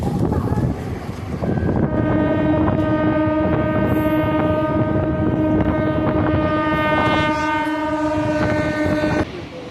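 A Vande Bharat Express train rumbles past loudly, with a steady rolling roar, rhythmic wheel clacks and a long sustained horn tone through most of the passage.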